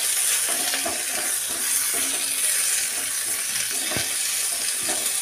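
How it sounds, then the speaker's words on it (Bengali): Ginger paste sizzling and frying steadily in a pan with softened onions for a Bengali cabbage dish, loud continuous crackle with occasional stirring scrapes, no voices. "এখন একটু আদা বাটা দিয়ে দিলাম।"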